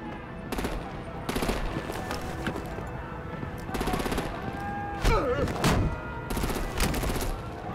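Rapid bursts of heavy gunfire aimed at vehicles in a Batman Telltale video game, loud repeated volleys with a brief whooshing effect midway.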